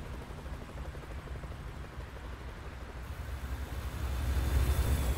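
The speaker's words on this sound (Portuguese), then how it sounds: "Ah, até um helicóptero aí apareceu." A helicopter in the American Truck Simulator game thrums low and steady, its rotor rumble swelling louder near the end as it seems to come closer, alone without speech.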